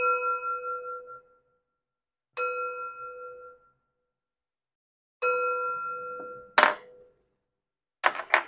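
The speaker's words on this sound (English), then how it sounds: "Three chimes to bring in positive energy." Three separate chimes ring out one after another at a slow, even pace, each a clear bright tone that decays over about a second, followed by a couple of short soft knocks.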